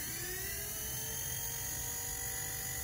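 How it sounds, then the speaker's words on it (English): A Blade Nano S3 RC micro helicopter's rotor spins up close by, a steady high electric whine with rising tonal harmonics that holds throughout, with no talking. "I'll run up the helicopter just a little bit."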